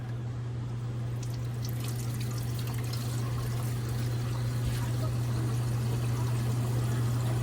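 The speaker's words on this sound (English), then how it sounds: "We'll give it a quick rinse." A cleaned razor clam is rinsed under running water, a continuous close splashing stream over a steady low hum, with faint handling clatter partway through.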